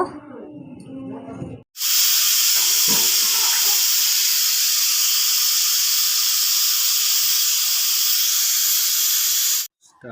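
A pressure cooker with mutton inside lets out a loud, continuous hiss of escaping steam lasting about eight seconds, then cuts off abruptly, with faint kitchen clatter before it.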